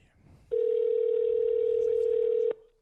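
A telephone dial tone rings out as one steady, unbroken tone for about two seconds, loud and close, starting and stopping abruptly with faint room noise before and after.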